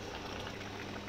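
Steady soft bubbling of a pot at the boil with sweet potato, aubergine and cabbage cooking for jollof rice, a continuous close simmering texture with no voices.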